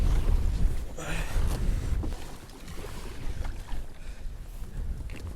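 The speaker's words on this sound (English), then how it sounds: "This wind is freaking ridiculous." Strong wind buffets the microphone on a reservoir during kayak bass fishing, a loud broadband roar with gusty swells and water sloshing around the small boat.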